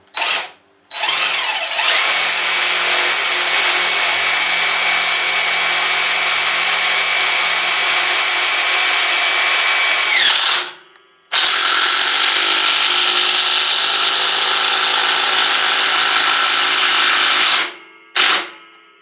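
Ryobi R18IW3 cordless impact wrench set to speed three, driving a screw without a pilot hole and then backing it out: loud, close, continuous hammering whir in two long bursts of about nine and seven seconds with short pauses.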